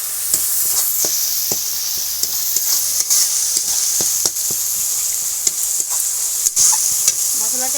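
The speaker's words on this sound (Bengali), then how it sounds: "মশলাটা একটু ভাজা ভাজা হয়ে গেছে।" Spices with turmeric powder fry in a pan, a bright continuous sizzle punctuated by regular sharp scrapes and taps of a spoon stirring them, close and fairly loud.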